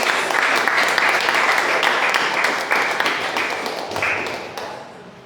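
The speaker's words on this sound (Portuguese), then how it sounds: "Você pode aplaudir ao Senhor?" A church congregation bursts into loud, dense applause during a Sunday service, a sustained close clatter of many hands that tapers off near the end.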